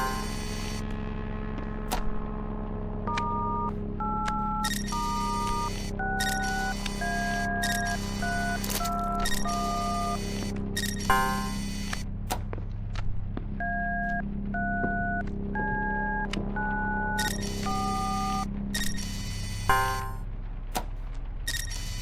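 Phone sounds in the horror game Obey the Voice: a long series of dialed keypad tones in several bursts, broken by sharp clicks and crackles, all over a continuous droning hum, loud and close, with no talking.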